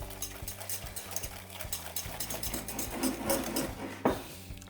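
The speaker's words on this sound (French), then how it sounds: "Nous allons monter cette crème au fouet pendant 1 à 2 minutes." A hand whisk beats cream in a bowl for a blackberry tart, making a quick, regular ticking and clatter of wire against the bowl, close and fairly soft.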